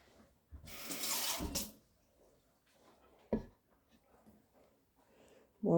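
Water poured onto kinetic sand in a single gushing burst lasting about a second, followed by quiet, a brief knock and a soft thud at the end.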